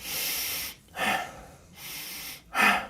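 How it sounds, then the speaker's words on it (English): A person demonstrates inhale-emphasized breathing, three or four strong audible inhales alternating with shorter exhales in a quick rhythm, close to the microphone with no talk. "just start breathing in a way that's inhale emphasized."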